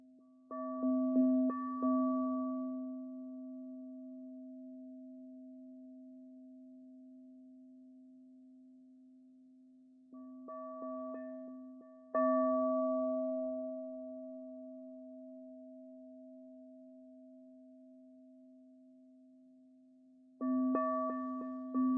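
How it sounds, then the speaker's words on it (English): A small singing bowl is struck three times, roughly ten seconds apart, each strike leaving a steady, sustained ring with clear overtones that slowly decays. It rings alone, with no voices. "So I'm going to play a little singing bowl here."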